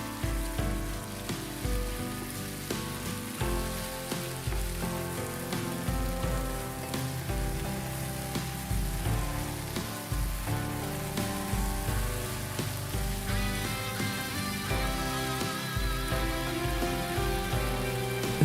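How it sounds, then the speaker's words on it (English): Marinated beef sears on high heat in a frying pan, a steady crackling sizzle running throughout beneath prominent background music. "add the marinated beef and cook the beef on high while mixing it constantly until you get a nice golden"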